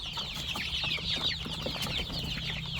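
Chickens around a feeder give a busy stream of soft clucks and chirpy calls that overlap in irregular bursts, close by and fairly quiet, with no one talking.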